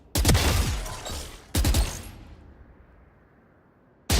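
Gunshots during Valorant aim practice, three sharp loud reports spaced over a few seconds, each trailing off into a short echoing decay, with no talking.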